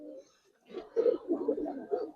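Old-line pigeons held for sale coo softly nearby in a short burst of low, throaty rolling calls after a brief pause.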